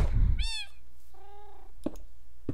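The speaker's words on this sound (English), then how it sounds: "This is just a baby cat." A baby cat in the Minecraft video game gives two high, thin meows, the second longer and lower, followed by a couple of short clicks over a quiet low hum.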